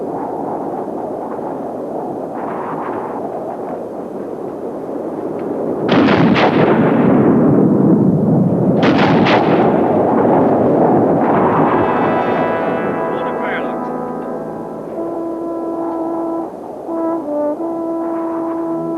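A volley of rifle gunfire on command cracks out loud and close, two sharp reports a few seconds apart with long echoing rumble, followed by a sustained tonal hum.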